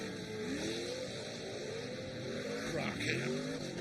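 Short course race truck at the 2022 Great American Short Course in Victorville, engine roaring continuously with shifting pitch and a brief tire-squeal-like sweep near the end, loud and close over steady track noise, with commentary voices mixed in.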